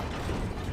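A crank mechanism turns in Resident Evil Village, a brief, loud, gritty ratcheting grind of gears and pawls heard close up and alone.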